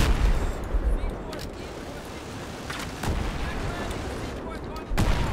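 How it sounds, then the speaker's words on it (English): Heavy gunfire and booming blasts in the video game Battlefield 3, sustained rumbling with sharp cracks near the start, around three and five seconds. "I'm getting shot at by everywhere."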